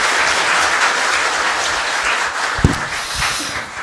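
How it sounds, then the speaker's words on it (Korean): An audience at a panel discussion on securing the public character of rental housing applauds warmly, a dense, even patter of many hands that keeps going throughout, with one sharp louder knock partway through. "정말 뜨겁게 박수 치워주시기 바랍니다"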